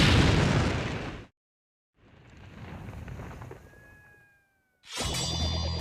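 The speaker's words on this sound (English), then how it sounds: "Can the Japanese super sword survive being shot by a bullet?" A gunshot is fired at a samurai katana clamped in a vise: a loud broadband blast that cuts off sharply, then a silence, a lower rumbling tail with faint whistling tones, and a second loud burst near the end.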